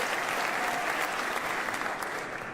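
Sustained applause from a large audience at a state address fills the room with even, dense clapping that eases off slightly toward the end.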